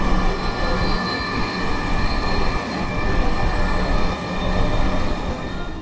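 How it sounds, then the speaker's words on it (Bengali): Interior of a moving Dhaka Metro Rail train, a steady loud rumble and hiss of the carriage in motion with faint high whine, continuous throughout with no talk. "এটা হচ্ছে মেট্রো রেলের ভিতরে পরিবেশ।"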